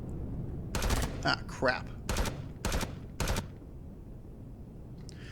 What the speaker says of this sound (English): keep in mind that your assault rifle has a specific range.